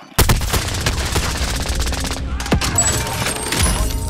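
Dense rapid automatic gunfire from a Call of Duty: Modern Warfare match, loud and close, a sustained burst with a brief pause then more shots over in-game noise.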